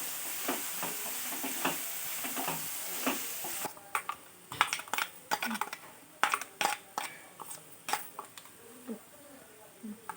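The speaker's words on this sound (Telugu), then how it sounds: "ఉల్లిపాయ మగ్గడానికి కొంచెం కళ్ళు చేస్తే మగ్గ పెట్టుకుంటే ఉల్లిపాయ బాగా మగ్గుతుంది" Onions sizzle in a pan while frying for a mushroom curry, with a constant hiss broken by repeated sharp scrapes and clinks of a spoon stirring against the metal.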